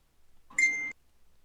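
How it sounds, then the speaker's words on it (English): A short electronic ding, like a phone notification, sounds once at moderate volume against near silence. "Oh, we hear his phone binging"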